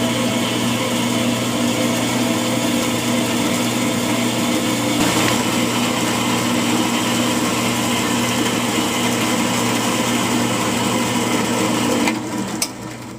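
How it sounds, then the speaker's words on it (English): Grinder steadily whining while holes are ground out in a John Deere 420 loader quick hitch, a continuous close drone that holds for several seconds and then tapers off at the end, no speech. "I have the holes ground out"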